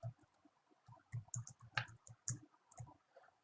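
Quiet, close clicks come in an irregular series while a computer is used to enter account settings, a dozen or so sharp taps with brief gaps between them.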